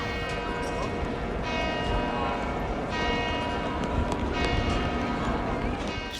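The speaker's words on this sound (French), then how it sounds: "On entend les cloches qui sonnent à midi" Church bells of the basilica on Piazza San Marco ring at noon with dense, overlapping strokes that carry across the square, mixed with the open-air bustle of the piazza.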